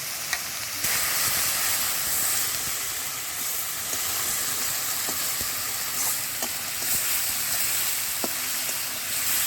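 Spice paste of ginger, dried and green chili, cumin and coriander frying in oil for a crab curry, a steady close sizzle with faint scraping stirs ticking through it, no voices.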